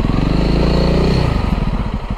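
A Honda CRF300L dual-sport motorcycle riding offroad, its single-cylinder engine thrumming loud and close in a steady, pulsing run with a slight pitch drop.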